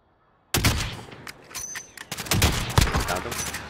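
Gunfire in Warzone, starting abruptly after a short silence as sharp bursts of rapid shots, some close and punchy and some lighter, with uneven breaks between volleys and a voice heard among them.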